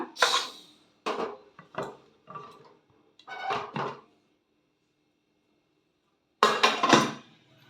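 Pressure cooker lid and pot clattering in a home kitchen during sambar cooking: several sharp metallic clanks and knocks in short bursts, a pause, then a louder cluster of clatter close by.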